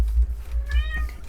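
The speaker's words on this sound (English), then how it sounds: "sorry if you can hear my cat crying in the background" A house cat cries with one drawn-out, plaintive meow in the background, faint against a low rumbling hum in an indoor room.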